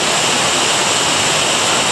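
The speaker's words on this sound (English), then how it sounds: "I will not be sitting under that waterfall." A waterfall at cold springs in Iowa pours in a steady, loud, full rush of falling water, close and continuous with no other sounds.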